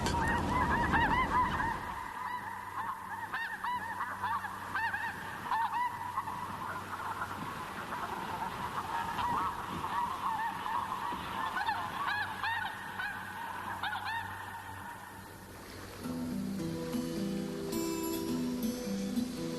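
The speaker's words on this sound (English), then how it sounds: "thousands of migratory snow geese feasting on the sandbanks" A large flock of migratory snow geese on river sandbanks honks continuously, a dense overlapping chorus of calls; near the end music rises as the honking fades.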